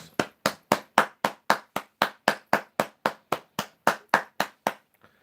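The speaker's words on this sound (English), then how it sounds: "So there you go, a round of applause." A single pair of hands claps close up for a round of applause during a live quiz stream, about twenty sharp, evenly spaced claps in a steady rhythm, then stopping, with no voices.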